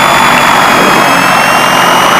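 A Piper Seneca twin-engine aircraft's left engine running up to 1500 RPM with brakes held: a loud, steady, close engine roar with a broad, even propeller drone and faint high whine, unchanging throughout, with no voices.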